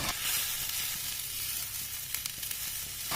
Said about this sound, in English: measured moong dal that I roast, and then I add in 3 cups of washed rice that I warm up along with moong dal